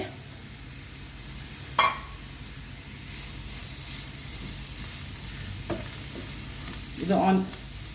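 Grated paneer tossed with onion sizzles steadily in a hot pan on a low gas flame, with a couple of sharp spatula scrapes and knocks against the pan as it is stirred.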